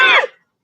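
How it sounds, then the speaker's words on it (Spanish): A single sharp cough, close and fairly loud, with a short rasping tail that fades out within half a second. "por la tos"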